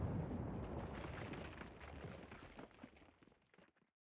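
A loud, broad explosion in the Ghost Trick video game bursts at once and rumbles on, slowly dying away over about three and a half seconds with a few scattered crackles near the end.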